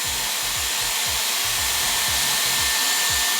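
A Dyson Airwrap hair styler blowing on high heat, a loud constant whooshing roar of airflow held steady throughout, with faint low thumps of handling beneath it.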